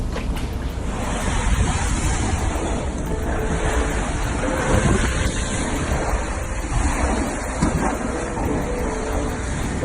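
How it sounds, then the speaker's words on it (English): Storm waves surge and splash heavily against a front room window, a continuous rough wash, with gusty wind noise buffeting the microphone throughout. "That's the water hitting my front room window, which is extremely high"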